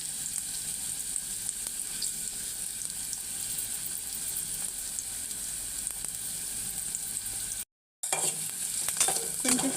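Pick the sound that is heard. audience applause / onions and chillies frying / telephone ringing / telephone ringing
onions and chillies frying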